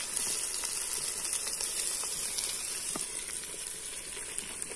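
Tomatoes tipped into a hot pan in a village kitchen, giving a continuous fairly faint sizzle with small crackles and pops throughout, no talking.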